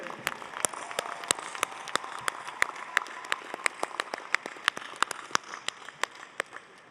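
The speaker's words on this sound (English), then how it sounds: "How about another round of applause for Nashari and Alexander?" Applause from a commencement ceremony audience at a 2024 undergraduate graduation, a dense wash of many hands with sharp individual claps popping out steadily across the whole stretch, fairly loud and sustained.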